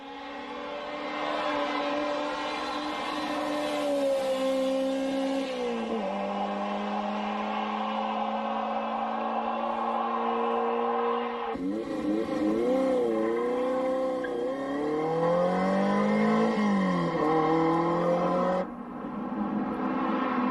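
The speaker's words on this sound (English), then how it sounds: "Nick Lawrence in his demon-looking Dino 308 GT4 testing how much traction is available on his practice run." A Ferrari Dino 308 GT4 racing car on a damp track revs hard, its engine note climbing and falling through gear changes, loud and close, with no talk.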